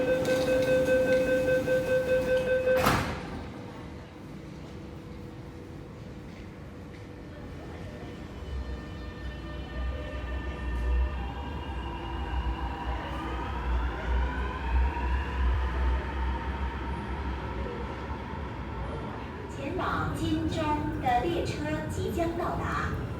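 An MTR train pulls into South Horizons station, a rising whine and rumble building over several seconds after a loud chime ends, with platform announcements in English and Cantonese and a faint hum continuing alongside.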